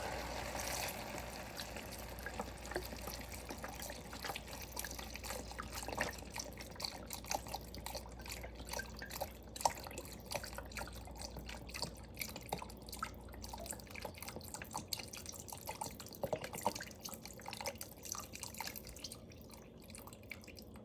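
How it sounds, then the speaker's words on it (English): Broth poured into a pot of vegan Hungarian goulash stew, a steady liquid trickle and drip running close by for about twenty seconds, no talking. "And now we're going to add the broth."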